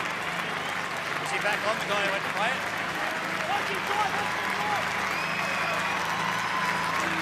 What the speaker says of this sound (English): out of their seats at Parramatta Stadium, applauding Jared Hayne